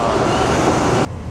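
A train pulling in, played from a film on a screen in a shop: a loud, steady rumbling roar that runs for about a second and then cuts off abruptly, leaving only a quieter background.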